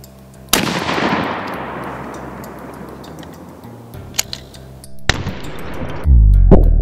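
A 12 gauge deer slug fires into ballistic gel outdoors: one sharp, loud blast with a long decaying echo, followed several seconds later by a second loud shot and its rumble, with no talking.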